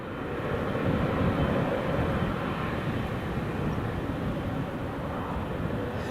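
An aircraft climbs steeply after takeoff from Newcastle International Airport, a broad, steady low engine rumble heard from the ground at a distance, with no talking over it.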